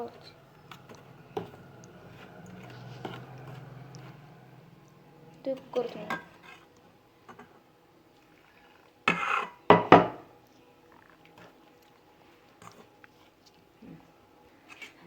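A spoon stirs crushed biscuits into boiled milk in a bowl, making soft, irregular scraping and clinking sounds in a few short bursts. Quiet gaps separate the bursts, and a voice speaks intermittently.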